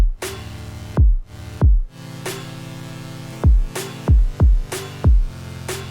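Electronic music track with heavily overdone sidechain compression, the whole mix ducking hard and pumping around each deep kick thump in an uneven, choppy rhythm with clear gaps between hits.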